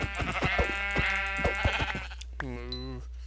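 Sheep in the video game Minecraft bleat in short repeated calls, mixed with a voice that seems to imitate the bleating, ending in one clear, drawn-out bleat near the close.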